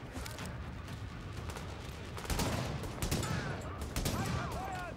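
Rapid, sustained pistol fire rattles through a firefight in The Division, with dense overlapping shots and a louder stretch of bursts midway, while someone talks over it.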